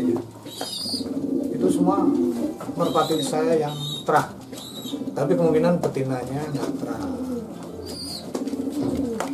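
Pigeons cooing in a coop, several birds giving repeated soft throaty coos close by, mixed in with someone talking.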